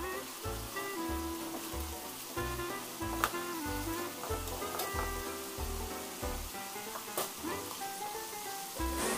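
Chicken pieces searing in a hot pan for sizzling chicken sisig, a steady crackling sizzle with soft stirring clinks and a low rhythmic thumping beneath.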